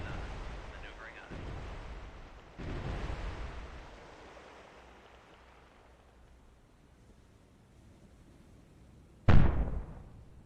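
Enemy guns hit a submarine in the video game Cold Waters: muffled, rumbling booms roll in as several low thuds early on, then a sharper, louder impact near the end over a dull undersea wash.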